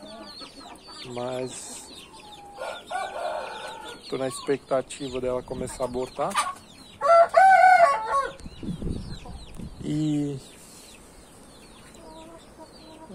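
Chickens cluck and a rooster crows repeatedly at close range in a backyard flock of hens yet to lay, with someone talking over and between the calls.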